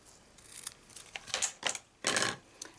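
Scissors cutting a length of vanilla ribbon for a punch-board treat box, several short crisp snips and rustles close up, with no talking.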